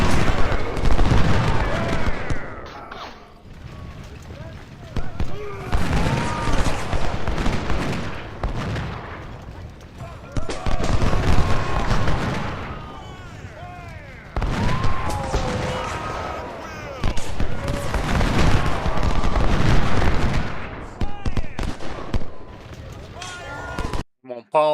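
Civil War battle gunfire in Ultimate General: Civil War at Cedar Mountain, with massed musket volleys and booming artillery rolling in repeated loud waves, interspersed with quieter gaps; someone talks over parts of it.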